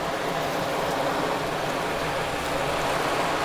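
Water pours steadily onto the front of a covered window, a dense, even, rain-like spray that holds constant throughout with no voices.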